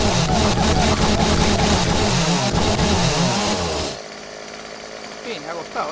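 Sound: chainsaw breaking a bridge in video game 7 Days to Die

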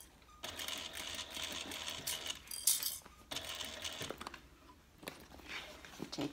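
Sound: sewing machine stitching curved edge of handbag bottom

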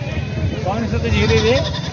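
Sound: goats and kids bleating at a livestock market

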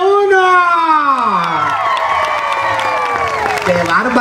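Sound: applause for the first contestant

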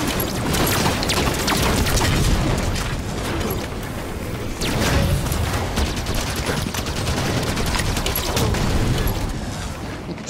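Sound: weapons firing in Halo 5 Fiesta mode, a video game

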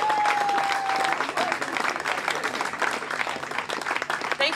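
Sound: applause

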